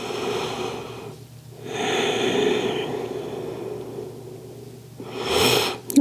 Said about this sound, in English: And just take a few more breaths here.